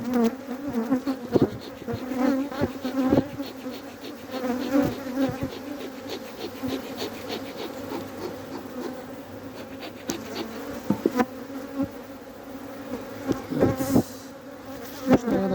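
Honeybees swarm around an opened beehive at the start of the season in early February, producing a dense, close, continuous buzzing, punctuated by scattered clicks and knocks as the hive frames are handled.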